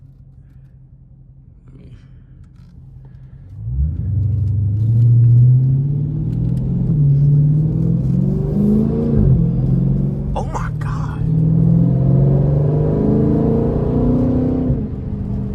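Dodge 392 Scat Pack with a loud aftermarket intake idles low, then pulls away with a deep, rising engine roar that stays strong and close; a voice exclaims partway through.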